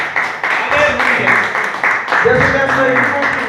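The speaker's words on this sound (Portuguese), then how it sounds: "Dá um aplauso dele, pastor." Church congregation applauding at an evangelical family service, a broad wash of clapping under a preacher's voice and shouted blessings throughout.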